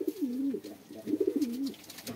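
Sirazi fancy pigeon cooing while being held and handled, two clear rolling coos close to the mic with faint rustling between them.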